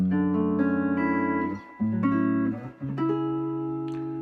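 Clean electric guitar notes and chords from the neck pickup with 12-gauge flatwound strings, a warm, rounded tone, ringing and sustained, played alone with short pauses between phrases.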